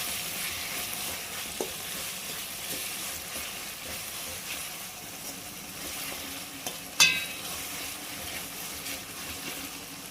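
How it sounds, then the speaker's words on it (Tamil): Steady sizzling from a pan as tomatoes sauté, with occasional stirring clinks and a sharp utensil tap near the end. "தக்காளி நல்லா வேகிற அளவுக்கு நல்லா ஒரு அஞ்சு நிமிஷம் வதக்கிக்கலாம்"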